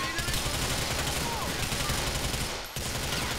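Dense, sustained gunfire from Grand Theft Auto IV fills the whole stretch, a loud continuous barrage of rapid shots with a brief dip near the end before it resumes.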